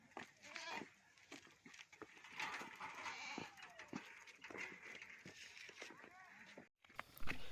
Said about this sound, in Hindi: ठीक है, बकरा को लेकर आओ।